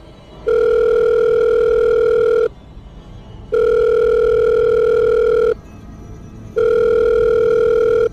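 A telephone ringback tone: three long, steady two-pitch beeps separated by short pauses, loud and clean.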